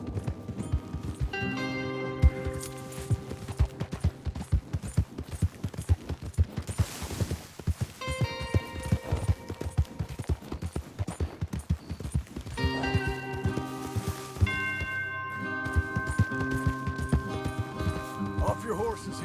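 Hooves of several horses clip-clopping at pace through a Red Dead Redemption 2 ranch ride, a steady beat under game music and voices talking over it.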